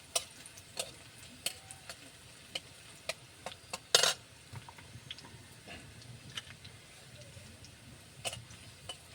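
Onions and garlic frying in oil under a soft sizzle, with frequent sharp ticks and scrapes from a spoon stirring them and one louder clatter midway.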